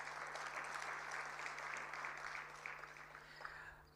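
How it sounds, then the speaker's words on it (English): Audience applause fills the room at a budget review dinner session, a dense, steady clapping that holds for several seconds and then gradually thins out, with a low constant hum underneath. "Let's give them a round of applause."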